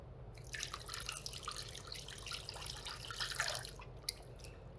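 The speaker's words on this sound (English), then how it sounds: "Next, I'm adding the cold water." Cold water poured from above into a mixing bowl already holding salt and vinegar for pastry dough, a faint, close splashing stream with soft drips, ending with a single small clink.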